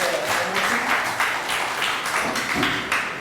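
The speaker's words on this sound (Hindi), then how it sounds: "एक बार ईशा के लिए तालियां हो जाए" An audience at a motivational seminar claps for a speaker named Isha, a steady burst of hand clapping in a hall lasting a few seconds.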